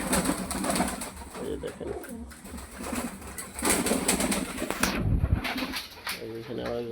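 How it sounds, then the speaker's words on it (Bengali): Black pigeons cooing and shuffling close by in a loft, soft throaty coos running under a voice as he talks over them, with a brief flutter of wings. "দেখেন এই যে আমার কালো কবুতর"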